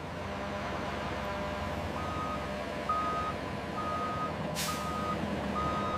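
A truck delivering limestone at a cement plant reverses into position for unloading, its backup alarm sounding a steady series of evenly spaced beeps over a low engine rumble.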